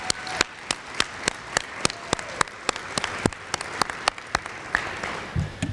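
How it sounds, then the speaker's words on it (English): Audience applause during a 2018 MSU Denver Hall of Fame speech: sharp, evenly spaced claps in a quick, steady rhythm over a quiet room, sounding fairly thin rather than a full roar. "Coach Pete, you deserve a great hand of applause"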